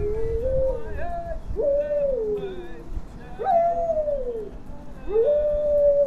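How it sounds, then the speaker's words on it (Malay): A dog howls in a few long, rising-and-falling wails, fairly close and loud, during a campervan trip in Queenstown, New Zealand, with some quieter background noise between howls. "Kau tengok anjing ni pun siap menyanyi tadi."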